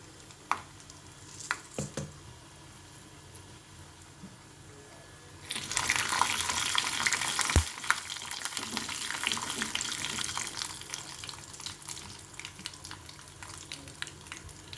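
Peanuts, chana dal and urad dal dry-roasting in a pan, starting as a faint, quiet rustle with a few light taps, then swelling after a few seconds into a steady, broad hiss that holds to the end with scattered crackles and scrapes.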